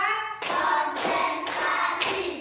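A class claps in unison as part of a counted clapping routine in a classroom, with a few loud, sharp group claps in steady succession, close and without talk.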